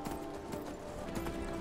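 Horse hooves clip-clop steadily on the ground in the video game Skyrim, quiet and rhythmic over a dense ambient game background, with a faint whinny mixed in.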